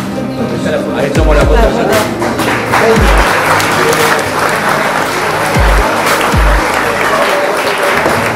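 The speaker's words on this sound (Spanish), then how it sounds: "Muy bien, fuerte el aplauso." Audience applause fills a crowded hall at a golf tournament award ceremony, a sustained, dense wash of clapping that stays loud and steady throughout.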